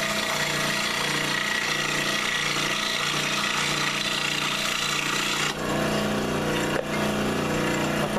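A hand saw cuts through a wooden cleaver handle near the line, a steady rasping stroke that runs continuously and close, with a brief pause and change in tone partway through.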